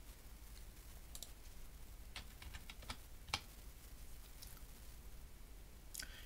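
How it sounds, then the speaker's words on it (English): Faint, sparse clicks of keys being pressed on a computer keyboard, a few separate taps spread over several seconds against a quiet background hiss, no voices. "then type the letters REG."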